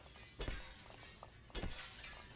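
Breakable glass shatters twice in the video game Fallout London, two sharp crashes about a second apart with short scattering tinkles after each, over a faint steady background.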